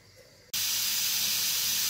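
Steam bursts from the whistle valve of a pressure cooker cooking a meat and chickpea stew: after a brief quiet moment a loud, steady, broad hiss starts abruptly and carries on without a break.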